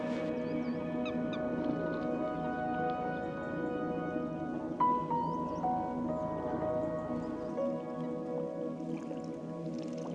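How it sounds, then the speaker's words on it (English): Red-breasted geese call with short honks and yelps from a middle distance over a constant low hum at a wetlands centre, with other birds chattering in the background. "the red-breasted goose there."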